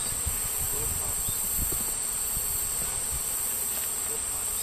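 A swarm of honey bees streaming from a relocated hive fills the air with a thick, unbroken buzz, close and steady, with occasional louder passes of individual bees near the listener.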